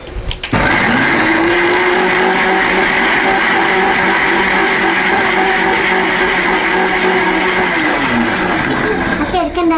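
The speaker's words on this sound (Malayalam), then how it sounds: "ഇനി നമ്മളിതൊന്ന് അരയ്ക്കാൻ പോവാണേ" A kitchen mixer grinder whirs loudly and steadily for about nine seconds, blending grated coconut and lemon into an energy drink, starting abruptly after a brief pause and holding a constant motor drone to the end.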